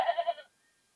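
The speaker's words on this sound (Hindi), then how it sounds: "ये मेंढा है ना ये जी" A ram, a male sheep, bleats in a short wavering burst of about four pulses, close and fairly loud, then falls silent.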